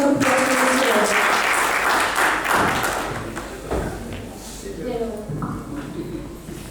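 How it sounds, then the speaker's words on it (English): An audience applauds as a speaker joins the stage at a press release event in Delhi: dense, loud clapping at first that thins and softens over several seconds, with a few thumps and some voices underneath. "Please give a big round of applause to Mr. Rajat."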